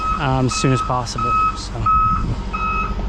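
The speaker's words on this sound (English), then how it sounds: "all right, water truck is here" A water truck backs up to a pool build site, its reversing beeps repeating steadily and loud over engine rumble while a person talks nearby.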